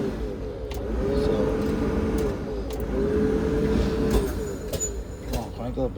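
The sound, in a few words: yard dog truck engine cranking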